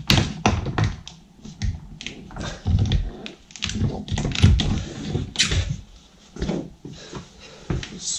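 Trim piece being pried off a Jeep Grand Cherokee door panel: a series of close, sharp plastic taps and clicks with brief rattles, irregular and loud in bursts, with no talk.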